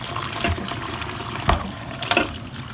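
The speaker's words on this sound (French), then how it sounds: "Puis on met de l'eau chaude à hauteur des os" Hot water is poured into a pot over bones in a steady, close gushing stream, with occasional louder splashes and knocks against the pot.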